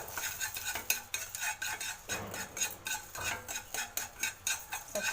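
Fenugreek seeds are stirred and dry-roasted in a pan, giving repeated scraping and rattling strokes in a steady rhythm with a faint sizzle underneath.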